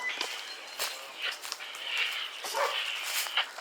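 A dog whimpers and yips in short bursts, fairly faint and close, with some shuffling movement around it.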